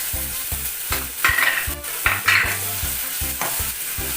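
Ginger and garlic fry in a pan for a pumpkin vada and black pea curry, a steady sizzle broken by repeated stirring scrapes and knocks of a utensil, close and loud with no talking.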